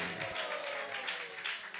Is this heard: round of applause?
yes